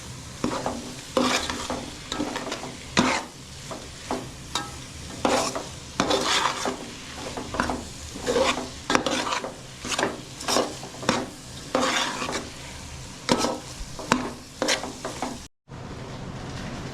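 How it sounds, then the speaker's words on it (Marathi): Onions stir-fried in oil for egg biryani in a village home kitchen: repeated rhythmic spatula scrapes and clanks over a continuous sizzle, close and fairly loud, cutting off briefly near the end. "कांद्यामध्ये तेल टाकतोय परत परतून घ्यायचं"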